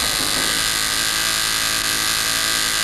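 A Harley-Davidson ignition test motor spinning at about 7,000 RPM, a loud, steady high-pitched electric whine with a buzzing mechanical edge, close and unbroken throughout, no voices.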